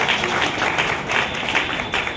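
Audience clapping at a community ceremony, a short burst of steady applause from a crowd.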